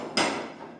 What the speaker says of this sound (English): Take off these grates first so I don't break anything.